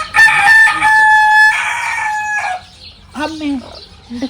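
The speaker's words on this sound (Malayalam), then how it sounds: "ഇവിടെ കുറച്ച് കോഴികളുണ്ട്, അത്രേ ഉള്ളൂ." On a farm, a rooster crows loudly and close by in one long sustained call, and hens cluck in short bursts after it.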